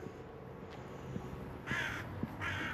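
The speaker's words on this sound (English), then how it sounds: "But you could definitely hear that crow." A crow in Oslo gives two distinct caws, one after the other, over a quiet outdoor background, with no talk.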